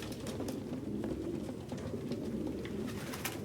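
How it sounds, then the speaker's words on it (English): A group of pigeons in Detroit: Become Human coos continuously at close range, with low throaty murmurs, scattered wing flutters and soft clicks, and no speech. "No human could live with all these fucking pigeons."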